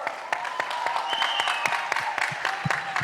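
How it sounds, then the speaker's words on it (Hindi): Audience applause at The Family Man Season 3 trailer launch event, scattered individual claps over a hall murmur with a faint tone running through, moderate and continuous for a few seconds. "तालियां रुकनी नहीं चाहिए दोस्तों."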